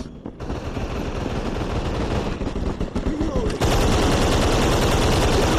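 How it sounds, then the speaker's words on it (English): Rapid gunfire from a zombie video game, sustained bursts of automatic shots crackling loudly and continuously, with a shift to even denser firing partway through. "Someone shooting at me!"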